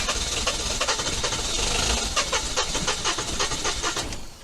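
An Isuzu diesel engine cranks repeatedly without catching after its glow plugs are warmed, giving a steady, loud churning with rhythmic starter pulses and a hissy, rattling texture throughout, with no voices.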